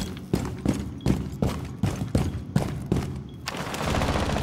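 Gunfire in Rainbow Six Siege on the Clubhouse map: about eight sharp, evenly spaced shots ring out over a few seconds, fairly close, then give way to a dense wash of continuous noise.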